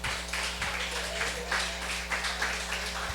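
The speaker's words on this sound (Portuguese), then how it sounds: "Palmas para Jesus." A church congregation claps during a sermon, giving a fairly faint, steady patter of applause over a low, constant background hum.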